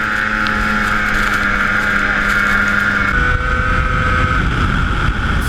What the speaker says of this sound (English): We're out here snowmobiling everywhere.